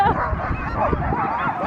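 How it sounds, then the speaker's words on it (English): Dogs bark and yip excitedly in short, overlapping bursts on a cold morning at Lake Louise, up close, while people talk and cheer over them. "All right, the dogs."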